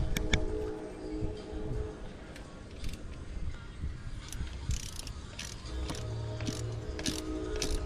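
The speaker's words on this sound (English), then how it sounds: "I like to just choke up on the ratchet here." A hand ratchet tightening bolts on a Corvette C6 valve cover clicks in quick bursts of close, sharp pawl clicks with short pauses between strokes, plus some metallic handling noise.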